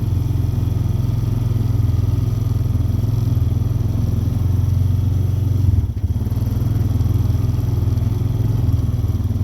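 Honda Rancher 420 ATV engine running while riding on a chilly day, a steady close mid-pitched drone with a brief dip midway.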